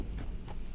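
Hoofbeats of a horse moving in Red Dead Redemption 2, a quick run of clip-clop steps over less than a second, close and steady, with no talking.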